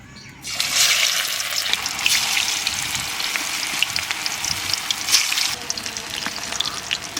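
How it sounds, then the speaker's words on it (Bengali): Soya chunk kofta dropped into hot oil bursts into a loud, close sizzle that swells after the first half second and keeps crackling steadily, with brief louder flares. "আর তেলটা গরম হয়ে গেছে, আস্তে আস্তে এবার দিয়ে দিচ্ছি।"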